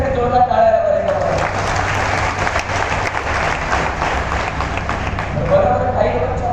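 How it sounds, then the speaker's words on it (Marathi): Loud, dense applause from an audience at a motivational speech event in Udgir, many hands clapping continuously and close, with a voice briefly heard at the start and end. "सगळ्यांसाठी जोरदार टाळ्या वाजवा"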